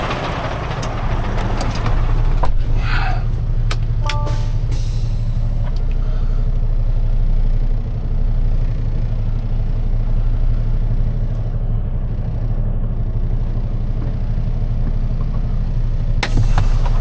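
A loaded semi truck's engine idles steadily and close by with a deep low rumble, continuing unbroken throughout with a few brief clanks and knocks near the start.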